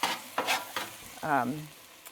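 Bean liquid sizzling and cooking off in a hot pan, soft frying hiss broken by several scraping stirs of a utensil, close and moderately loud with no talking.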